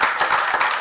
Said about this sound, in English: And it feels good to hear clapping rather than. Yeah, booing.